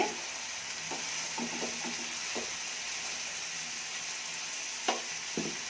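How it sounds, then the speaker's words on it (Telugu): Peas and mixed vegetables sizzle steadily in a hot pan for a vegetable kurma, with a spoon stirring and scraping in a few distinct knocks, close and alone. "బఠానీ, అన్నీ ఒకసారి ఇట్లా తిప్పేసి"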